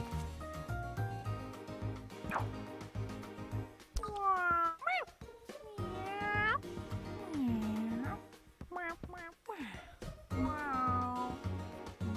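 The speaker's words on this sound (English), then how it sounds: "Annoying kitten." A kitten meows repeatedly in the video game D4: Dark Dreams Don't Die, giving several rising, drawn-out cries in separate bursts over quiet background music.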